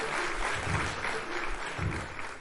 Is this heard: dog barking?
no